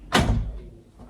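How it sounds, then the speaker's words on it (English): One door bumped and pushed by a small child in a home, a single close dull thump with a short rattle that fades quickly. "Little one trying to get in the door."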